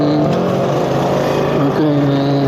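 A car engine revs while warming up, its loud, tonal note rising and dipping through a couple of throttle blips.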